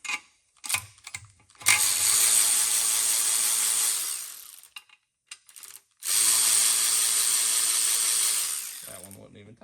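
A ratchet spins out bolts on a 6.0 Powerstroke engine intake manifold during a head gasket teardown, two long loud bursts of rapid clicking separated by a pause, close up, with brief talk before and after.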